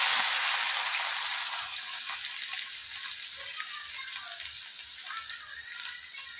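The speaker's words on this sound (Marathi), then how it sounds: "आता टाकत आहोत 1 चम्मच जिरे, कढीपत्ता," Cumin, curry leaves and garlic hitting hot oil for a tempering, after mustard seeds have popped, give a loud hissing sizzle that settles into a steady, softer crackle, close up with no talk.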